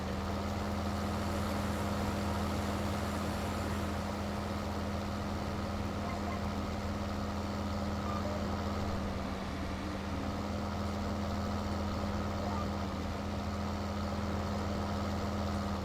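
A tractor engine runs steadily in Farming Simulator, with a continuous low, droning hum and a constant pitch that stays loud and unchanging throughout.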